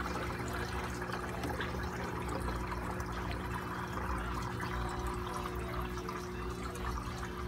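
A newly installed, stronger aquaponics water pump runs with a steady motor hum beneath continuous rushing, splashing water flow, close and constant throughout with no voices.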